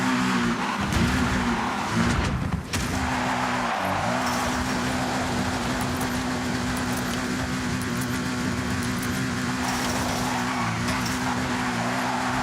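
Car drifting in the Forza Horizon racing game, a loud continuous engine roar with steady tire squeal and skidding that runs throughout, with a brief dip in the noise early on.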